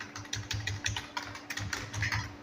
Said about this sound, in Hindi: यहाँ पर जो टाइपिंग है वो मैं आपको करके दिखा देता हूँ इस वाले कीबोर्ड से जिसको हमने रिपेयर किया हुआ है।